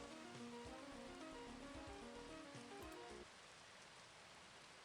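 Steady rain pattering on a surface, a dense even hiss of drops, soft and continuous, with a faint tonal hum fading out partway through.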